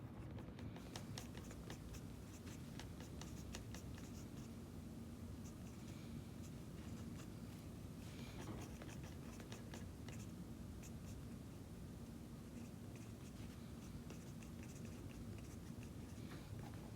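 Pen or pencil writing notes on paper during a statistics lecture, a quiet, steady scratching that runs continuously and faintly close by, with no talk over it.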